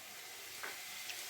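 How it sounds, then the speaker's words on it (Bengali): Potato pieces fry in oil in a pan, giving a steady quiet hiss with a couple of brief stirring clinks and no speech. "আলুটাও ভাজা হচ্ছে"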